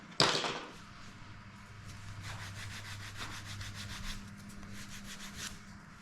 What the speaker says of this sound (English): Using Andy's nail file as normal